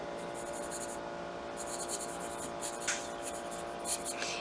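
A pencil scratches across the paper of a new sketchbook in short, soft, close strokes and bursts with small pauses, faint over a quiet room hum.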